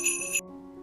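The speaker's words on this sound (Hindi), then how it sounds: "टन टन की जादुई घंटी की आवाज गूंज रही है" A bright cartoon magic bell rings once with a sharp ting, then its tone fades out into a lower, lingering hum.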